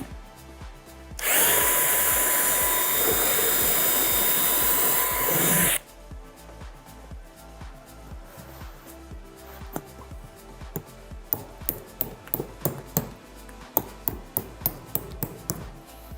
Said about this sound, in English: now I can drill the remaining two